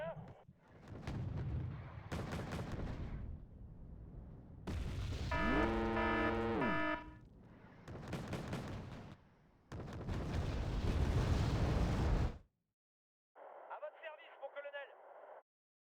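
Mortar and artillery fire from the war strategy game Wargame: Red Dragon, with repeated booming blasts and rumbling impacts mixed with game radio chatter, followed by a short burst of filtered radio-like sound.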